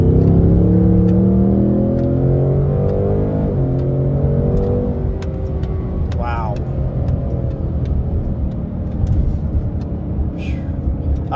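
A 2024 Mustang GT V8 pulls hard in manual mode, its loud engine rising through the revs with a shift partway through, then carrying on as a steady drone from inside the cabin.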